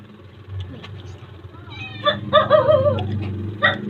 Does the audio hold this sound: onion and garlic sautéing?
no